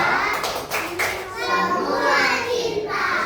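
Classroom of children doing a rhythmic clapping chant with their teacher: bursts of hand claps mixed with young voices chanting and calling out together, fairly close and lively throughout.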